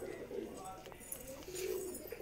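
A Bandu breed pigeon coos in a low, soft, rolling murmur, close and continuous over a faint background hum.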